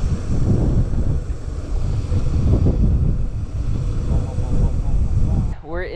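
Strong gusting wind buffets the microphone on a mountain bike ride in the hills of Box Springs, Moreno Valley, a loud, constant roar that cuts out abruptly near the end as a voice begins.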